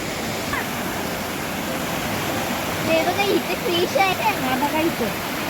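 Water gushes at the Zenith waterfall near Khopoli during heavy rain, making a loud, constant rushing roar. People talk briefly over it near the end.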